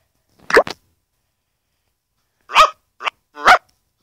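A German Shepherd dog in a video game barks in short, sharp bursts: a quick double bark, a pause of nearly two seconds, then three more close barks, loud and clear against silence.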